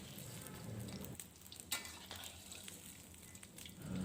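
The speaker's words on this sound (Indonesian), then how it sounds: "kemudian goreng untuk sisa tahunya hingga selesai" Tofu frying in hot oil in a home kitchen, a steady crackling sizzle with occasional sharper pops and light utensil stirring, close and alone with no talk.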